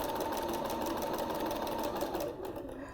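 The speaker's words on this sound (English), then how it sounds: "Notice too that I sew a couple of inches and then I stop." A sewing machine stitches a seam on mesh fabric for a blouse, using a regular presser foot, whirring steadily and close by for a few seconds before easing off near the end.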